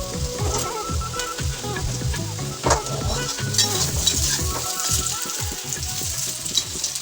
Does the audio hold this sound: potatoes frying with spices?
yes